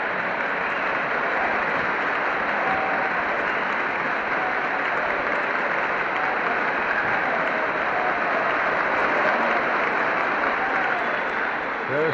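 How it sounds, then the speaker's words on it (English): Congress bursts into sustained, dense applause as General Eisenhower walks down the aisle, a steady roar of clapping heard slightly distant through an old broadcast recording with a hissy, band-limited tone. "There's tremendous applause here as the general comes down the aisle"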